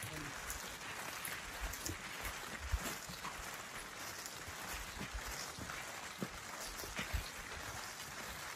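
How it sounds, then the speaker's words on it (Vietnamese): Heavy rain falls in the highlands as a dense, steady hiss that stays even throughout, with no breaks and a few brief louder spatters. "Sáng nay bắt đầu mưa nhiều chứ."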